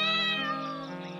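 A cartoon kitten gives a single drawn-out meow, high and clear at first then sliding lower and fading, close and alone with no talk.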